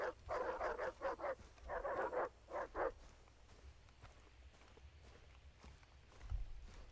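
Several dogs in Far Cry 3 let out a quick run of close, sharp barks and yips in clustered bursts, then fall quiet into faint background movement.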